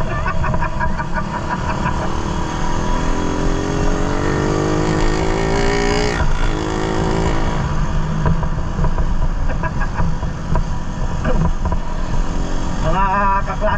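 A Suzuki Raider 150 motorcycle is ridden fast, its engine a loud, steady roar that drowns the background, while voices are heard over it.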